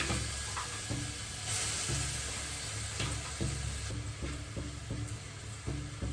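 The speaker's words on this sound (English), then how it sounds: "now we are going to put this mixture in the ghee" Sugar-free fig and walnut halwa mixture sizzling and frying in hot ghee, a continuous close hiss with stirring scrapes and small crackles throughout, no talk.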